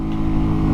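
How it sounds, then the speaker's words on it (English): A modified Honda Grom motorcycle engine runs with a steady low drone, close and fairly loud, with a slight rise in revs and no voices. "regular Grom engine with a few modifications"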